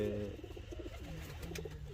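Pigeons coo in a low, rolling run of throaty notes, with a male and female pair close by, steady and fairly loud over a soft background hiss.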